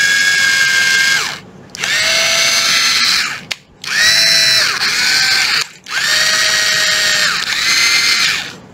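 Makita cordless screwdriver with 21 clutch settings, a drill mode and two speeds, run in three loud high-pitched whirring bursts that spin up and wind down, separated by short pauses, close to the microphone.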